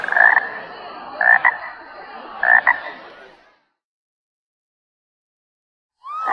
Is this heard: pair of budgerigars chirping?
no